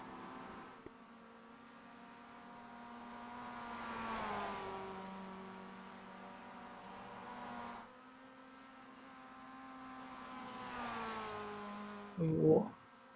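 Second-hand Mazda MX-5 climbing a hill climb course, its engine droning in rising and falling surges, revving up twice and easing off, heard from a moderate distance, ending with a short louder burst.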